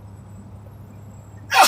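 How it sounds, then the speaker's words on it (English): A single sharp sneeze bursts out at the very end after a quiet stretch of low background hum inside a truck cab. "I just sneezed 3 times."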